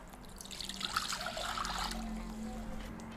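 Half a liter of water poured for a marinade, a trickling splash that swells and gurgles as it fills the container, then tapers to a faint dribble over a low background hum.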